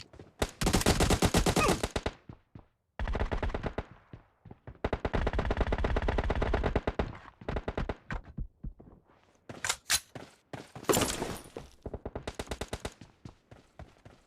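M1014 shotgun fire in the PUBG Mobile video game comes in loud, close bursts of rapid shots separated by brief silences, with a few sharper isolated blasts toward the end.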